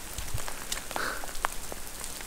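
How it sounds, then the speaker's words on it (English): Heavy rain patters steadily on a tent pitched among trees while wild camping, a dense close hiss of drops with a few louder individual splats, no voices. "This rain is unrelenting."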